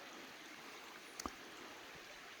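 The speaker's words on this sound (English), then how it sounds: "A little creek." A small creek flows through woods with a soft, steady, faint burble, broken once by a brief close click or tap, and no voices.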